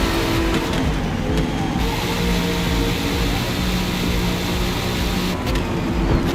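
A 1976 Corvette race car roars steadily at full throttle in Forza Motorsport on the Sunset Peninsula circuit, engine droning loud and continuous with brief tire noise while braking and dueling Audis nearby.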